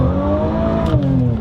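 A 525HP Infiniti Q50 slides with a loud, close, sustained engine whine whose pitch sags slightly as the car slips, heard alone without voices.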